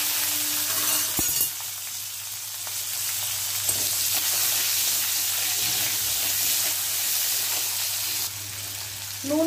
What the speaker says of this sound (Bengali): নুন হলুদ দিয়ে আলুটা ভেজে নিয়েছি।